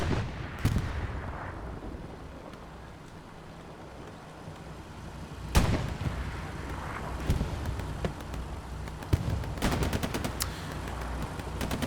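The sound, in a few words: rocket firing in the video game Hell Let Loose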